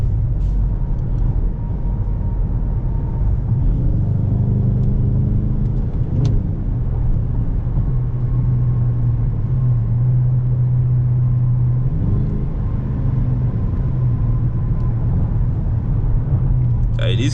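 A 2022 Dodge Charger R/T with the 5.7 V8 idles after a cold start, its deep, loud, steady rumble rising briefly in a couple of revs, while someone talks over it.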